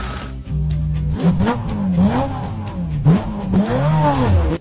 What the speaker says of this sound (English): Get in the car and try to hit the accelerator.